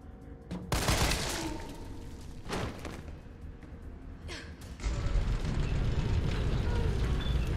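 Gunshots in Resident Evil 3, a few sharp loud reports spaced apart early on, followed by a heavier rumbling stretch of game noise.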